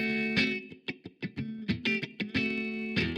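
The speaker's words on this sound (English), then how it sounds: "So I'm starting with distortion." A distorted electric guitar plays a choppy riff of short, gritty notes and sustained chords, saturated and buzzing, with sharp stops between phrases.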